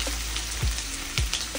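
Onions frying in oil in a pan, a close, steady crackling sizzle with a couple of soft thumps from stirring.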